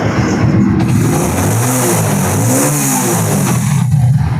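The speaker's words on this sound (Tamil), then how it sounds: "வண்டி எக்ஸைட் கொடுக்குறோம் பாருங்கள்" A Hero Splendor motorcycle engine revs up close at delivery, its pitch rising and falling through a few throttle swells over a steady running drone, with no talking.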